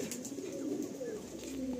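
Giribaj pigeons coo close by in a short run of soft, throaty, rolling calls with no voices over them.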